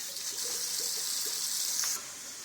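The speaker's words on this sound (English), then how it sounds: "I'm going to rinse it in cold water so you don't get sticky together" Steady running cold tap water pours over noodles for about two seconds, a close hiss with faint splashing, then cuts off abruptly.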